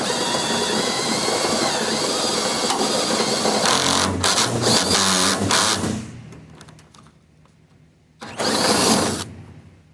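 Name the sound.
enlarging a 3/4 inch hole for the pull handle doubler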